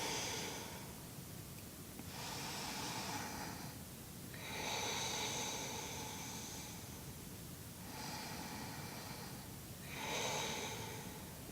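Slow, deep breathing during a yoga detox practice: three long, soft inhale-exhale cycles, quiet and close, with nobody speaking.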